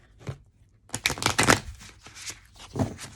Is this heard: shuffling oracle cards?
yes